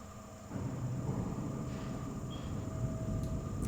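A quiet electric subway train runs in the World of Warcraft video game, a faint, steady low rumble and hum that swells slightly after the start, with no voices.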